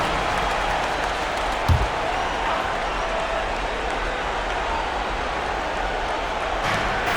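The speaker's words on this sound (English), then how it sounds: "Round of applause." A crowd in a basketball arena keeps up steady applause and murmur through a timeout. The noise is broad and even, with one brief thump partway through.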